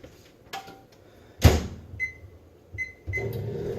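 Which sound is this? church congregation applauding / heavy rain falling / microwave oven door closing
microwave oven door closing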